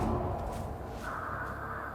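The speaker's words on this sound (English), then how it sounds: "Or at least the crows that she set off" Crows cawing in the Dead by Daylight video game, several harsh caws over a dense, loud ambient game background, close and brief, no talking.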